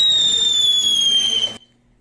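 Loud close fireworks burst with a sharp whistling screech, holding steady then cutting off abruptly into quiet.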